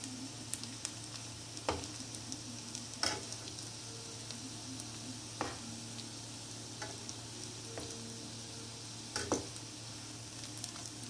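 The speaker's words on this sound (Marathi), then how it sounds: "छान चारही बाजूनी याला छान फ्राय होऊ द्यायचं. मध्ये मध्ये असं फिरवत राहायचं" Potato dahi vadas fry quietly in hot oil with a soft, steady sizzle, broken every second or so by sharp clinks and taps as they are turned in the pan.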